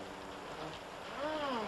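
Rain blowing in the wind at night on a terrace, a steady wet hiss that swells slightly near the end, with faint tonal music-like sounds rising and falling over it.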